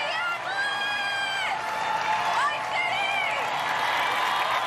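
A large crowd in the stands at American Ninja Warrior cheers and whoops for a local-hero competitor during the Minneapolis Finals, a loud, steady roar with high shouts and whistles rising throughout.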